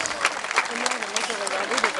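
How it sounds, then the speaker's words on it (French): Crowd applause at a bullfight corrida in Pouillon, bursts of clapping rising and falling over two seconds with an announcer talking over it. "Ah, lui, il faut l'applaudir, là."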